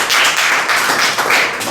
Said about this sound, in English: Big clap for group number 2.